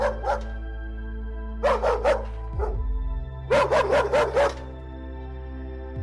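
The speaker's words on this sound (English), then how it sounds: "tried to calm their dog down, which was now at the bedroom door, frantically barking." A dog barks frantically at a bedroom door in rapid bursts, close by, with short pauses between volleys over a steady low hum.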